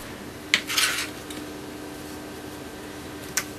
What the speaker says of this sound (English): And then I'm just going to grab my little spoon that I have inside